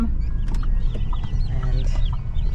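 Small baby chicks peep and chirp in a rapid, overlapping chorus at close range, just brought home in a box, with steady rustling and handling noise underneath.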